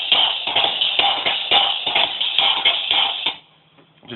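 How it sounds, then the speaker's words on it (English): Drum and bass snare pattern layered with a high-passed Amen break, a fast, bright, crisp run of snare and cymbal hits that cuts out near the end, heard alone. "and now I've layered an Amen that's high pass"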